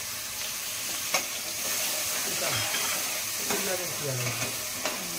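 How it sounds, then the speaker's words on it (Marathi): Finely chopped capsicum frying in butter for pav bhaji, a steady close sizzle and hiss with occasional spoon scrapes and stirring knocks against the pan, under a quiet voice. "आता चांगली फ्राय करायची, मस्तपैकी फ्राय करून घ्यायची"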